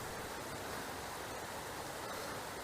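A Carpathian mountain river rushes in a dense, continuous roar of water with no pauses, close and steady.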